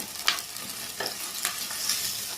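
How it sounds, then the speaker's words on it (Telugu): Curry leaves and coriander get stirred into onions frying in a pan for an egg gravy, with a few scraping stir strokes over a soft steady sizzle and no talk. "ఉల్లిపాయల్లో ఇప్పుడు కరివేపాకు, కొత్తిమీర వేసి కలుపుకోవాలి"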